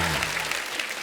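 A studio audience at a comedy talk show applauds in a short, dense burst of clapping that fades fast after a brief voice at the very start.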